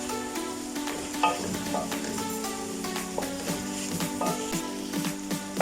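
Chicken Manchurian ingredients being stir-fried and mixed in a pan, with a continuous close sizzle and repeated scraping and tapping of a spoon against the pan, no voices.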